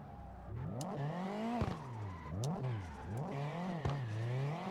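Nissan S15 engine in CarX Drift Racing revving and rising and falling through the gears with tire squeal during a drift, loud and continuous with no talking.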